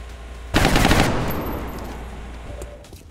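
A sudden burst of automatic gunfire erupts in the XCOM Long War video game, a loud rapid volley lasting about half a second before trailing off into a fading echo.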